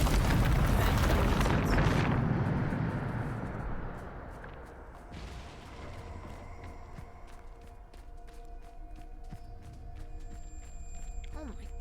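A Bombarda spell explosion in Hogwarts Legacy, a loud rumbling blast at the start that fades into a long decaying roar, followed by scattered faint clicks and impacts.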